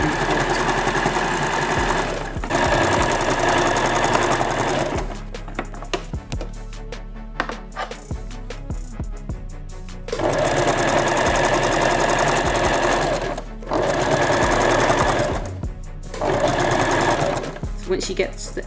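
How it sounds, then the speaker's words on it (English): Close, loud sewing machine stitching a jacket in long, steady runs of rapid rattling whir, broken by a pause while pins are pulled out, with a voice talking over it. "I'm sewing and I'm taking out the pins while I'm sewing so the pins don't get caught up in the needle"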